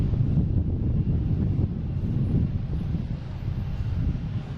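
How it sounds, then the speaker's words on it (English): A JetBlue A320 with a special livery taking off at Boston Logan International Airport, a steady low rumbling engine roar mixed with wind buffeting the microphone, continuous and fairly loud with no talking. "Also got a JetBlue special livery taking off."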